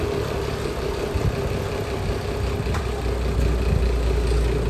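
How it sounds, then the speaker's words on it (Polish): A large tourist boat's powerful engine near Phuket, Thailand runs steadily, a loud, close, continuous low rumble with no pauses or voices. "No tutaj jest zdecydowanie konkretniejszy silnik. Dużo większy niż w tych zwykłych."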